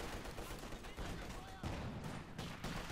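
Dense, continuous rifle and submachine-gun fire from assault infantry in a World War II real-time strategy battle crackles in rapid overlapping bursts throughout, with a commentator talking over it.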